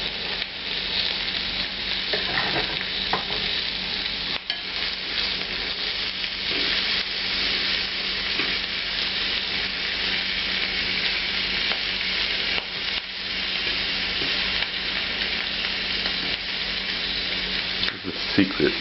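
Shrimp for a tiki bar appetizer fry over extreme high heat, giving a loud, dense, continuous sizzle with occasional stirring clatter throughout.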